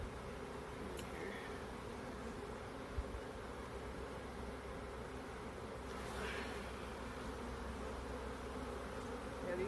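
Honey bees buzz steadily around an open hive during a hot June inspection, a dense continuous hum with occasional individual bees passing close, and no voices.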